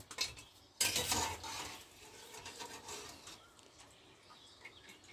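Bitter gourd curry with curry leaves frying in a pan: a sharp sizzling burst as the leaves hit hot oil, then soft stirring and scraping with a utensil, close and fairly quiet.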